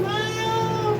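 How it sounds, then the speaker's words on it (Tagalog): A pet cat meows once in a drawn-out, close call, with steady harmonic tone over low background noise in a home setting. "Ang aking pusa."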